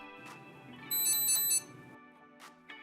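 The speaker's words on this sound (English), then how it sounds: "The Edge device beeps one time when the first vehicle is detected." A bright electronic beep tone from a Garmin Edge bike computer, alerting to a vehicle detected by a Varia RCT715 rear radar, chirps in a short rapid triple burst, clear and close, over a faint background hum.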